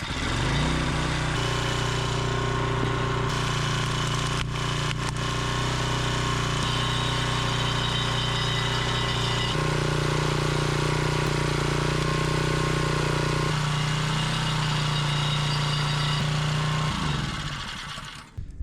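A Champion 9-ton gas log splitter runs while splitting spruce, its small engine chugging loudly and steadily, with the pitch and load shifting as the hydraulics work, then cutting off at the end.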